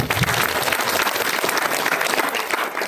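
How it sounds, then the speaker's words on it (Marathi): An audience at a kirtan claps loudly for the mridang accompanist, a dense and continuous burst of applause that is close and full throughout. "त्यांच्यासाठी एकदा जोरदार टाळ्या वाजवा"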